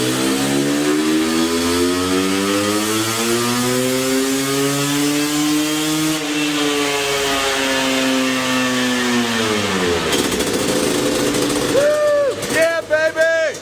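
A 2002 Honda CR500 two-stroke motocross bike revs loud and sustained on a dyno, its pitch climbing steadily under load, then dropping away before a few sharp blips of the throttle at the end.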